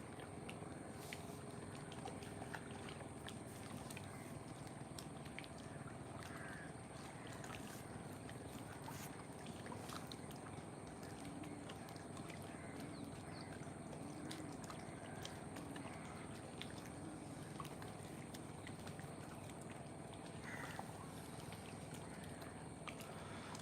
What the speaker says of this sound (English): So we see some motorboat in the distance.